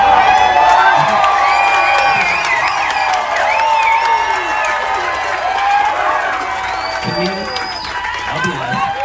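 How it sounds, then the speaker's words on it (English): A comedy-show crowd roars with cheering, whoops and shouts, a loud, sustained wall of voices filling the whole stretch with no pause. "And the crowd goes crazy"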